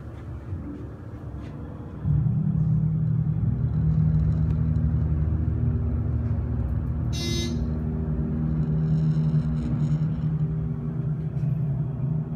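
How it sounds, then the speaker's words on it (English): A 1985 Westinghouse elevator motor on a scenic elevator in a restaurant, a steady low electrical hum and drone that starts up and runs continuously, with brief buzzing chirps over it. "Gotta hear this motor."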